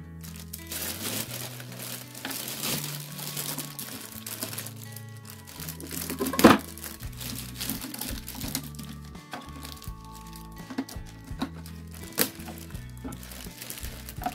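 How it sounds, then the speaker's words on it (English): Crinkling plastic bag being handled while a Spellbinders Platinum die cutting machine is unpacked, with steady rustling and crackling throughout, a sharp crunch near the middle, and music playing underneath. "Okay, I got it out of the plastic bag."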